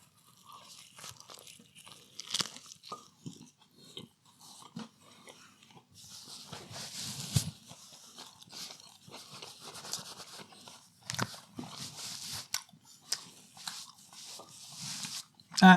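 Close, quiet crunching, biting and chewing on a Future Farm vegan burger with butter, burger sauce and red onion, soft mouth sounds continuing in irregular bursts.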